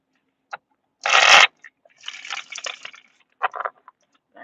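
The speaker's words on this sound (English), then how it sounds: "I think I just started shuffling and I shuffled" Tarot cards are riffled in one quick, crisp burst, followed by softer, scattered shuffling and tapping sounds close by.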